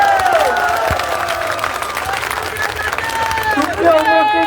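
A crowd at a student protest rally in Sylhet claps and cheers loudly after a poem recitation, with shouting voices rising over the steady applause.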